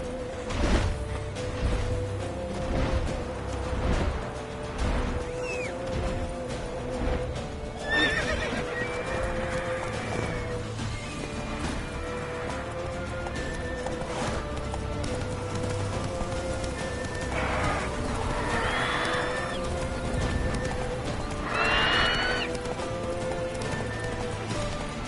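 Roach the horse in The Witcher 3 gallops in a steady clip-clop, with several loud neighs and whinnies rising over continuous hoofbeats and a busy game soundscape.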